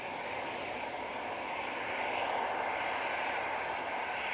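An Etihad airliner lands at Manchester Airport with weak thrust reverser use, giving a steady, fairly faint rumble of engine noise from a distance that lifts only slightly partway through.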